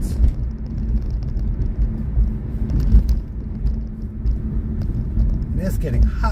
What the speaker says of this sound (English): Sorry for the bumps. Victoria Avenue here is not the smoothest of roads.